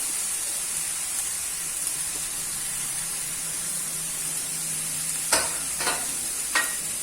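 Carrot, potato and beet pieces stirred in a pan over low gas, a steady sizzle and hiss running throughout, with a few sharper scraping clinks of the utensil near the end.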